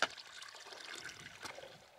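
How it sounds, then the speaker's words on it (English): Water trickling from a small natural mountain spring on Arran, a soft continuous splashing close by with a brief brighter burst partway through, heard alone without voices. "I've just found this natural little spring here."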